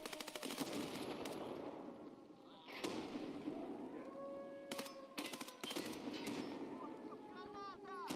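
Bursts of 5.6A1 rifle fire from the Savior ending of the video game Terminal, with several loud rapid volleys spaced across the stretch, short pauses between them and a voice talking faintly underneath.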